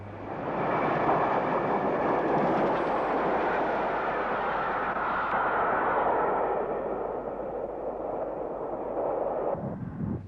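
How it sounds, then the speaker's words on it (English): A rebuilt West Country class steam locomotive bound for London Waterloo passes close by, a loud sustained rumble and roar of train noise that holds steady for about ten seconds before easing slightly at the end. "A rebuilt West Country class locomotive heading to London Waterloo."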